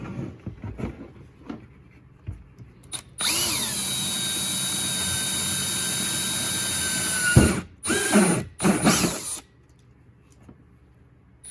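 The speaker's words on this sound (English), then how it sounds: "I just use a step drill bit." A power drill with a step drill bit bores a half-inch hole in a DIY air-compressor pressure bleeder, running loud and steady for about four seconds, then stopping, followed by a couple of short bursts and quiet handling.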